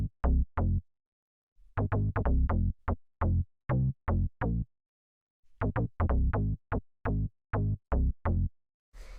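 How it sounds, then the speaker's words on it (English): A sparse, punchy bass line from a classic Detroit house track plays alone: short, clipped low notes in rhythmic clusters separated by gaps of silence, loud and dry. "So this is the bass line. It's pretty simple."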